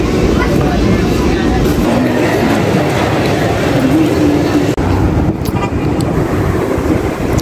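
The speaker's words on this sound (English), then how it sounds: "Okay, so my train is way here. It's coming." A loud, rumbling train arrives at a Boston station nearby with a steady roar and faint squealing, while voices murmur underneath.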